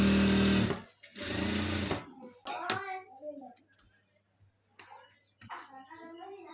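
A sewing machine stitches a chudidar dress top in short close bursts, its rapid mechanical whir starting and stopping between pauses, with a person talking over the stitching.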